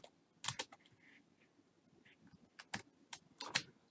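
Quiet typing on a computer keyboard: scattered, irregular key clicks in small bursts with pauses between them, close and faint, with no talking.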